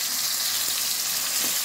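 A whole bhetki fish sizzles steadily in hot oil, a close, even frying hiss with no talking.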